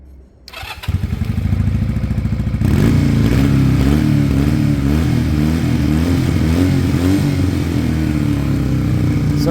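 A Sinnis Cruisestar Chinese motorcycle engine starts with a short cranking clatter, then settles into a loud, steady, close-up idle that keeps running evenly on its own.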